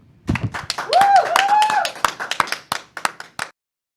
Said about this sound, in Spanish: Vamos a recibirlo también con un fuerte aplauso.